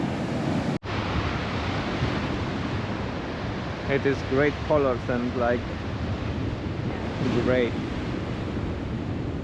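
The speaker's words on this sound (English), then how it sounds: "Crazy waves." Rough ocean waves break on a shore with a constant, loud surf roar and gusts of wind on the microphone, while a person talks briefly over the noise of the water.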